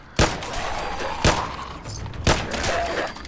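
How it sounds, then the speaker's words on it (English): Webley Fosbery autorevolver fired in Fallout 4, three sharp, evenly spaced shots about a second apart, each a loud crack with a short ringing tail over a faint background hum. "we'll also do some third-person shooting, even though that shot missed"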